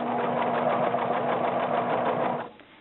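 A sewing machine stitches fleece for a jacket in one steady, fast, continuous whir at close range, then cuts off abruptly near the end, with no voices over it.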